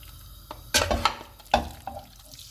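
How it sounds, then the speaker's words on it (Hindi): Marinated chicken pieces drop into hot oil in a pan, each landing giving a sharp splashy burst of sizzle and spatter, two or three close crackling bursts over a quiet kitchen background. "ऑयल गर्म हो गया है, इसमें मैरिनेटेड चिकन डाल देंगे"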